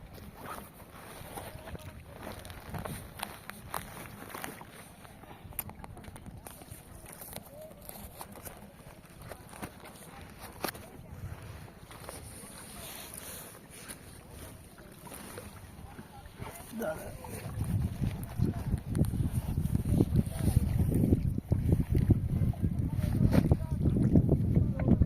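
A boat moves across the water at a bird sanctuary, with steady wind buffeting and water noise that grow louder toward the end while people talk nearby.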